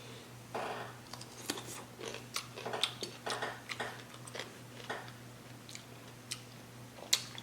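Soft chewing and crunching of a seafood boil with Dungeness crab, shrimp and ramen alongside fresh cucumber, close and intimate, a series of irregular bites and mouth sounds over a steady low hum.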